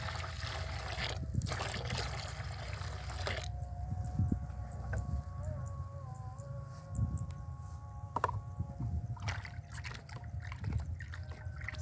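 Water mixed with herbicide trickles and pours into a sprayer tank on a farm seedbed plot, a steady low liquid gurgle with faint drips, fairly close and quiet, with no talking.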